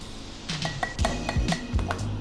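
A spoon clinks against a bowl while mirin teriyaki-style sauce is stirred, several quick close clinks and scrapes in an irregular rhythm.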